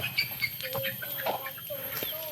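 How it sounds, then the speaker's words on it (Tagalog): Chickens at an old house in the Philippines give short, soft clucks and chirps, scattered and close, mixed with faint background voices. "Oy, manok, bugawan ng manok, Pau."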